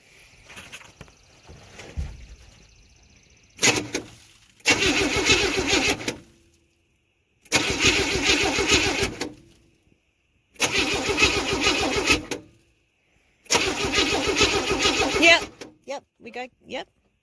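A 1970 Chevy Camaro, being started for the first time in 23 years, cranks over in four long bursts of loud, steady starter churning separated by pauses, with a short sputter at the end and a voice talking faintly at the start.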